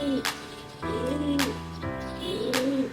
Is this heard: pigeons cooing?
yes